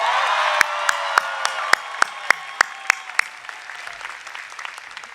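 Crowd applause at a college commencement ceremony for the class of 2025, a sustained outdoor wash of clapping with a few sharp, loud individual claps standing out, gradually fading toward the end.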